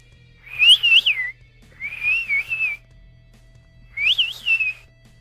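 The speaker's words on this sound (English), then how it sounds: "So when I'm whistling, it sounds kind of like this." A person whistles by sucking air in, giving three separate warbling high-pitched phrases with short gaps between them, close and clear over a faint low hum.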